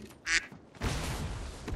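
A person imitates a duck with a loud, close nasal quack, followed by a burst of noisy sound.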